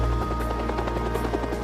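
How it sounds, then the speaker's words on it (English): Steady, continuous rotor and turbine drone of a Bell XH-40 turbine-powered utility helicopter, a loud low-frequency roar with faint rhythmic blade chop running throughout, no voices. "Bell's engineers developed a turbine-powered utility helicopter,"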